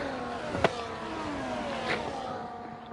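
A Ferrari race car engine in the GPR racing game on the Austria circuit holds a steady, whining drone, with a sharp click near the start and a brief swell as another car passes.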